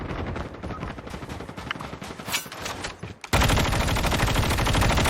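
Turret gunfire from the mobile game Call of Duty Mobile crackles in dense rapid bursts, growing heavier and louder partway through until a sustained stream of shots fills the rest.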